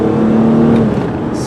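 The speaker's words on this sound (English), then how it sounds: "you can listen to me accelerate now" A red 2003 Ford Windstar SE minivan engine hums and rises steadily under acceleration, heard loud and close from inside the cabin.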